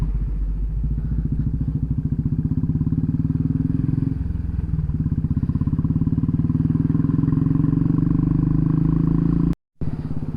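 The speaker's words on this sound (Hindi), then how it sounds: "तो अभी हमने अपनी बाइक मोड़ ली है नड़ाबेट की ओर" A motorbike engine thrums loud and close as it rides a rough, broken road toward Nadabet near the India–Pakistan border, a steady pulsing drone with occasional bumps and thuds, cutting out abruptly near the end.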